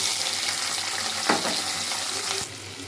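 Ingredients frying in hot oil, a dense, close hissing sizzle that runs steadily, with a brief stir or clatter midway before the sizzle drops quieter near the end.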